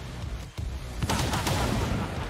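Gunfire from the strategy game XCOM 2 (War of the Chosen, Long War 2 mod): a dense, sustained burst of shots and booming impacts that swells after a brief dip, loud and continuous for about two seconds.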